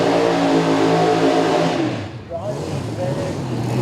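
Turbocharged 1993 Mustang drag car with a 270-cubic-inch engine and twin Honeywell geared turbos, revving loud and close at a radial drag racing event, its pitch rising and then dropping, under an announcer's voice.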